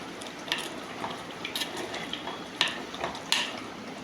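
Cassava and drumstick leaves are stirred in a pan on a gas stove, with scraping, knocks of a spoon against the metal and a faint background sizzle throughout.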